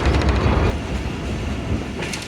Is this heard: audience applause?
no